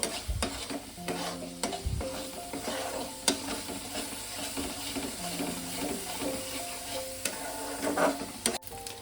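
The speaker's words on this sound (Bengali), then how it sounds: "আমি মশলাটাকে ভালো করে কষাবো" Spice masala for chana masala is stir-fried in a pan, with a soft sizzle running throughout. A spatula scrapes and clinks against the pan in repeated, irregular strokes, close by and moderately quiet.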